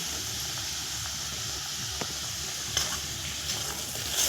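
Whole garlic cloves fry in hot oil with salt for an egg curry, making a steady, close hiss of sizzling with a few faint clinks on top.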